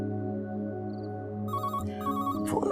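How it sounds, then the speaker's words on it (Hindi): A telephone ringing in a home scene of a Pakistani drama, an electronic ring pattern repeated in short bursts over a steady sustained musical tone, fairly clear and near. "फोन आया।"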